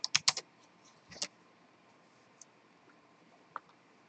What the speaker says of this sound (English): Let's type in dwarf.